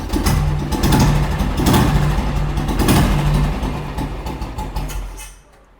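A restored Royal Enfield G2 motorcycle engine runs at a steady low idle, with a continuous rumbling chug that fades away at the end. No one speaks.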